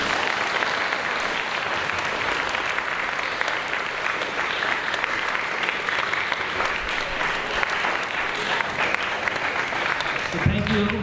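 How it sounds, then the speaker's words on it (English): Audience at a school career expo claps for the day's presenters, a long, steady round of applause from a sizeable crowd, fading near the end as a voice begins to speak. "Can we give a big round of applause to our presenters today?"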